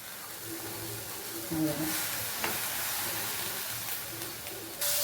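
Sundakkai seeds sizzle in hot ghee in a pan, a steady frying hiss with faint stirring scrapes, while a person talks over it.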